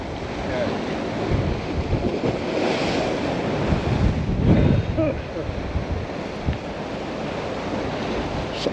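Gusty wind buffets the microphone on the Guernsey coast during a fishing trip, with surf washing in behind it, rising to a louder gust midway before settling to a steady rush.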